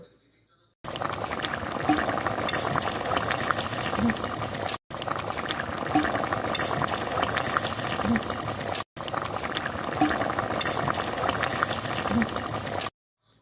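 A Bengali-style rohu fish curry broth with taro and potatoes boils in a pan, bubbling steadily and closely in three continuous stretches separated by brief silences.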